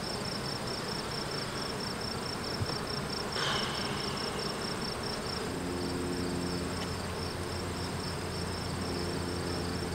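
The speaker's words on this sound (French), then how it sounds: "C'est un essaim." A honeybee swarm buzzing steadily around hive frames during a nucleus hive transfer, a continuous dense hum that stays even and fairly soft throughout, with no voices.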